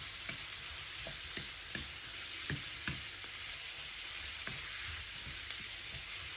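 Prawns sauté in a pan for a curry, giving a constant hissing sizzle broken by soft, scattered taps of stirring, close and even, with no voices.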